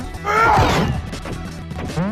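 Ralph smashing objects in the Wreck-It Ralph game for the 3DS, a loud crashing impact with swooping game effects that rings out and decays over about two seconds, with game music and voices continuing underneath.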